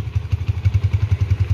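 A 2018 Yamaha Vixion LED motorcycle with about 8,000 km on it runs close by, its engine thumping in a quick, even pulse for a moment with no talk.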